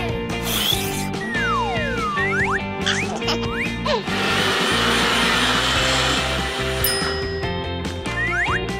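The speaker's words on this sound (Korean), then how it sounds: "믹서가 필요한데." A toy blender whirs steadily while rattling and clinking, with sliding electronic tones and chimes layered over the motor noise. No voice is heard.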